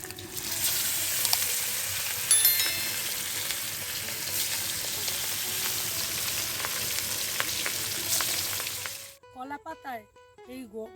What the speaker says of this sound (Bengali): গরম গরম কাতলা মাছ ভাজা